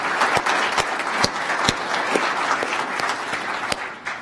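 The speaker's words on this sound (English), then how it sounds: "So just a round of applause." A room of people at a law faculty gathering applauds in a steady, dense round of clapping that runs throughout, with sharper individual claps standing out near and far.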